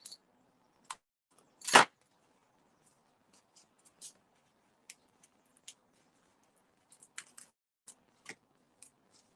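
Scissors snip a short length off a piece of card in a quiet room: one sharp cut stands out, followed by sparse, faint clicks and rustles of handling.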